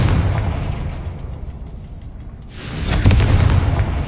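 A Confringo spell bursts in a wizard video game, a rumbling explosion that fades out, then a second sharp boom with crackling, rolling low rumble.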